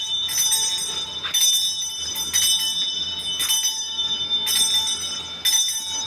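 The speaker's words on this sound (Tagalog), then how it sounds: "Sino yung tunog ng kampana?" A bell rings in repeated bright bursts during a house cleansing ritual in Nasugbu, Batangas, each strike ringing out over a steady hum of room tone, with a few brief pauses between rounds.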